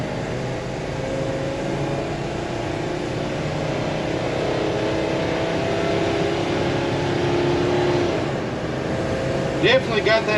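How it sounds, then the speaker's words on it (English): V10 engine of a 2015 Thor Four Winds 28F Class C motorhome pulling uphill, a continuous low throaty exhaust drone that rises slightly in pitch, heard from inside the cab; a voice briefly speaks near the end. "Definitely got that V10 throaty exhaust sound."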